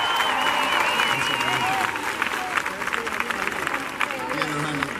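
Audience applause at a live concert, a dense wash of clapping that holds steady and fairly loud throughout, with cheering voices and a singing voice over it.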